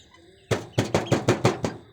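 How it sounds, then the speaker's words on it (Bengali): Tiger chickens on a home poultry farm at night give a quick run of about six clucks in rapid succession after a brief quiet moment, close by and fairly loud. "আমার মুরগির ছোট্ট একটি ভিডিও।"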